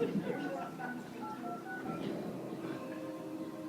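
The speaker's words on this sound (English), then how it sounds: "our friends at AT&T are going to connect us to Mitzi Henry" Telephone dialing tones from an AT&T call being connected, a sequence of short steady tone pulses, fairly faint, with a voice talking over them.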